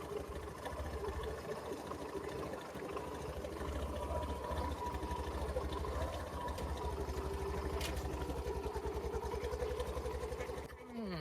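Small motorcycle engine runs steadily with a low buzzing drone while being ridden toward a farm field, staying loud and close for the whole stretch with faint road rumble underneath.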